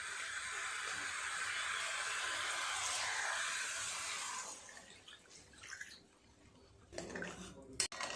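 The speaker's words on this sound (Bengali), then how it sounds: "জলটা দিয়ে দেব।" Water pours into a pan of sautéed vegetables, likely eggplant, in a continuous rushing stream for about four seconds, then fades into light clinks and a sharp knock against the pan.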